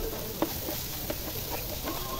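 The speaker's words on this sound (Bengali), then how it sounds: "এরপর আরেকটা পাত্রে আমি সামান্য সয়াবিন তেল দিয়েছি 2 টেবিল চামচের মতো, দিয়ে টফোগুলা গোল্ডেন ব্রাউন করে আমি কিন্তু ভেজে নিচ্ছি।" Tofu fries in soybean oil in a pan with a steady, close sizzle and hiss, broken by light stirring clicks and scrapes.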